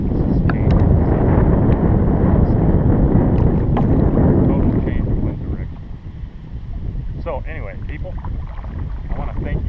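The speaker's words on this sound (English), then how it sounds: "Total change of wind direction." Wind blowing across a small Minnesota lake from a fishing boat, a loud, rough rumble of gusts buffeting the microphone that eases after several seconds, then weaker gusts return, with someone talking.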